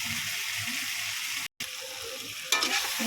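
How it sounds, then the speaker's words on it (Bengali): Spiced potatoes sauté in a pan for an omelette curry, giving a continuous frying sizzle with soft scraping stirs, a brief dropout, then a sharper hissing flare near the end. "কষিয়ে একটু কষা কষা হয়ে গেলে এর মধ্যে আলুগুলো দিয়ে দিতে হবে।"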